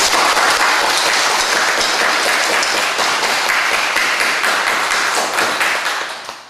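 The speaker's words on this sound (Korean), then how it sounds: "큰 박수 한번 하겠습니다" A church congregation at a Sunday worship service claps loudly in a dense, continuous burst that stays strong before tapering off at the very end.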